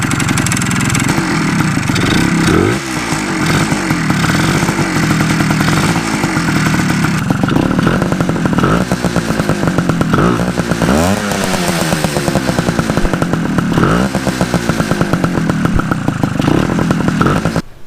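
A freshly rebuilt Suzuki TS185 motorcycle engine runs loud and close, a raspy two-stroke buzz rising and falling through repeated throttle blips over a steady idle.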